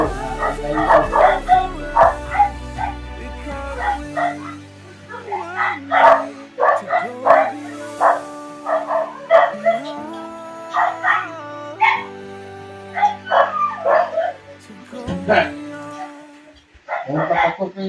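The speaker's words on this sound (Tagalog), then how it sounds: "Parang sumisigaw yung aso." A dog barks and yelps repeatedly in short, loud bursts with whimpering yips between, close to the listener, in an irregular rhythm throughout.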